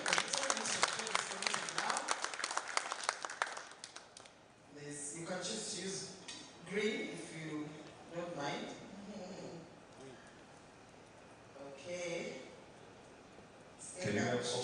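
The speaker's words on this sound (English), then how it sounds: "Hand clap for him" Applause from an audience at the launch of a nutrition strategy, loud dense clapping for the first few seconds that then fades, with talk continuing afterward.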